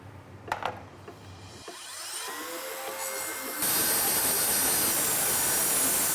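Power saw cutting down a piece of plywood for an axe throwing target build: a whining motor spins up with rising pitch, then a loud, harsh, sustained cutting roar takes over near the end, no voices.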